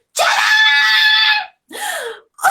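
A storyteller screams loudly to imitate a young monkey's scream, one long sustained shriek followed by a shorter second cry, alone and close.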